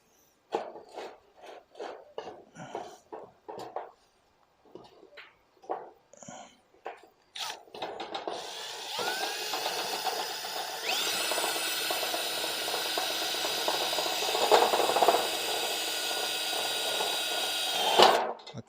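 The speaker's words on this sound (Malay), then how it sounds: "jadi saya akan pasang lah skrunya" Screws driven into a metal roof deck with a power tool, including blunt reused screws: a run of sharp separate taps and knocks first, then a loud continuous whirring drive that holds steady for about ten seconds, close by.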